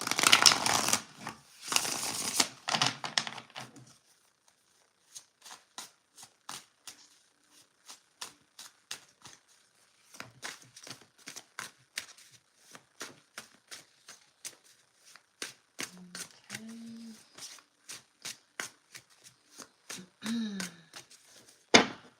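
A deck of tarot cards shuffled by hand, with a dense riffle at first, then a long run of quick, crisp flicks and taps as cards slide and are cut, close up, with brief murmured speech near the end.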